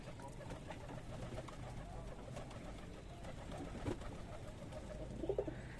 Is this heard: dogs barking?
no